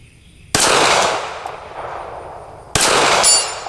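Two loud, sharp pistol shots from a Ruger Security 380 fired at a target 80 yards away outdoors, each report ringing out with a long decaying echo, spaced about two seconds apart.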